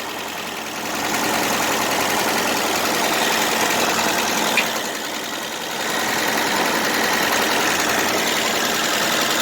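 A 1966 Dodge Dart GT engine, a barn find sat since 1985, idles steadily up close with a continuous mechanical clacking running through it.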